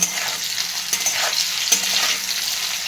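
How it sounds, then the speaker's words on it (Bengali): Paneer cubes fry in a wok with a little salt, a close, continuous sizzle with occasional stirring knocks. "পনিরগুলো হালকা ব্রাউন কালার করে ভেজে নেব"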